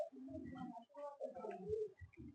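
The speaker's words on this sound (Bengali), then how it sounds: "খুব ছটপটে পায়রা সব।" Pigeons in a loft housing Giribaz and Madrasi breeds coo softly in short, throaty bursts, faint and close together.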